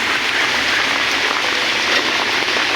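Heavy downpour pounding down steadily as a dense, continuous roar, close and loud throughout with no voices.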